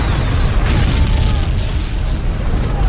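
A house fire explodes in the 2002 film Red Dragon, a deep rumbling boom with sustained low roar and crackle filling the whole stretch, loud and continuous with no voices.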